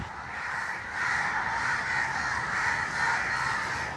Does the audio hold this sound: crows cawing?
yes